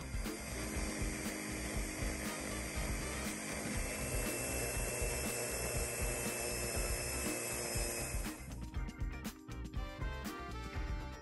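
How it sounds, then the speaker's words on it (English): Magnetic polisher running while polishing a ring, a continuous faint whirring and rattling hum that shifts to a rougher, choppier churn near the end. "So yes, using the magnetic polisher is quicker, easier, and more effective."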